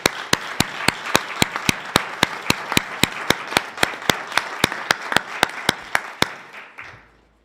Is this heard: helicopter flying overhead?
no